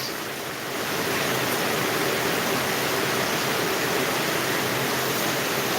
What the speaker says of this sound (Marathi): खूप मोठा पाऊस यायला लागलेला आहे